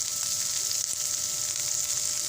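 Pork dropped into a hot pan for Bicol Express fries with a steady, close sizzle that fills the whole moment, constant crackling hiss with no voices over it.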